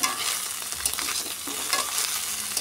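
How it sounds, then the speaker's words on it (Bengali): Small gang mourola fish fry in oil with salt and chilli, a steady close sizzle with scraping stirring strokes, no talking. "একটু নুন দিয়ে ভালো করে লঙ্কা দিয়ে ভালো করে আমি একটু ভেজে নিচ্ছি মাছগুলোকে।"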